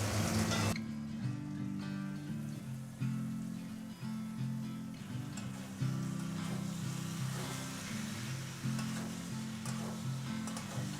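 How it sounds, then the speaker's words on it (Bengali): Boiled jackfruit sautés with spices in a pan, giving a soft continuous sizzle with intermittent stirring scrapes and clinks, close but fairly quiet, and no voices. "এঁচড়টা দেওয়ার পরে মশলার সাথে ভালো করে কিছুক্ষণ কষিয়ে নেব।"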